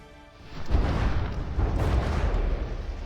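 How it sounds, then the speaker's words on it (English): Warship gun volleys and shell hits in From the Depths boom heavily, a deep swelling roar of explosions rumbling on after a quieter start. "Kaiserin taking some more hits, some heavy volleys."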